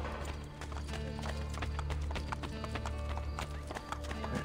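A horse's hooves clatter in a quick, steady clip-clop on the ground in Assassin's Creed Brotherhood, loud and close, with game music and ambient sound underneath.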